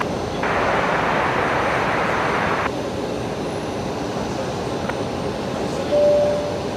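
A Kalitta Air Boeing 747 cargo jet takes off at Brisbane Airport as a steady, loud broadband jet roar, swelling strongly for a couple of seconds and then holding as a continuous rumble with no talk.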